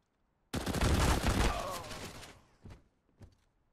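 Pistol fire from the video game CS:GO comes as a loud, dense rattle of rapid shots lasting about two seconds, followed by two fainter isolated bangs.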